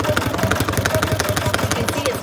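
A sewing machine stitches a Charles River raincoat, a rapid, even mechanical chatter of the needle running close and steady throughout, with no voices.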